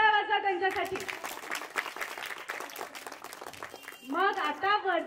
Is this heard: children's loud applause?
yes